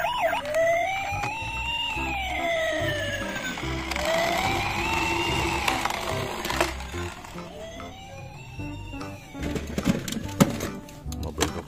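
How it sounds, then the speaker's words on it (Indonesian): A toy emergency vehicle sounds a rising and falling electronic siren wail for several seconds, then fades into clattering toy noises near the end, with a voice talking in the background. "Mobil emergensi lagi ya."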